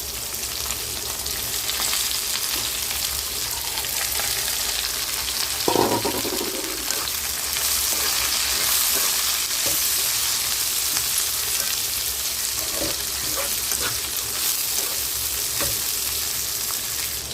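Thinly cut cabbage dropped into hot tempering oil for a fry, a loud steady sizzle with a burst of crackling as it hits the pan and occasional stirring scrapes, no talk.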